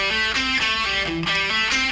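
A distorted electric guitar plays a fast triplet pentatonic rock lick. Quick picked notes run in a tight repeating rhythm, loud and close, with no talking.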